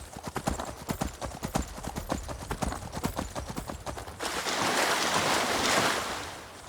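Horse hooves galloping in the video game Skyrim, a fast rhythmic clip-clop of many close hoofbeats that gives way after about four seconds to a broad rushing wash of noise, with no talking.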